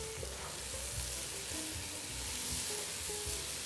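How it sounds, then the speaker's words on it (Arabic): Rice sizzles in a hot pan with onion and mango pickle while being stirred, a steady close frying hiss broken by soft scraping and turning sounds, with no talking. "راح نضيف العيش ونقلبه"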